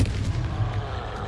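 The Confringo blasting spell in Hogwarts Legacy, a heavy low rumbling explosion that sustains loudly throughout.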